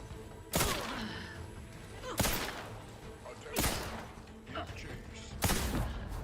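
Sniper shots in the game The Outer Worlds 2: four loud, sharp cracks spaced one to two seconds apart, each with a short echo tail over a low background.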